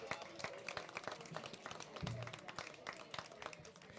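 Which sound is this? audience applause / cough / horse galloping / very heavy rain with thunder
audience applause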